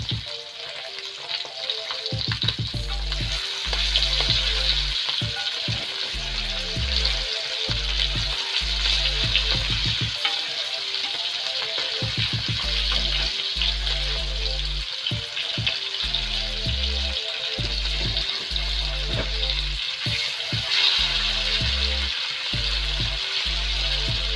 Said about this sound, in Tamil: இங்கே வந்து மீன் பொரிச்சிருக்கேன்.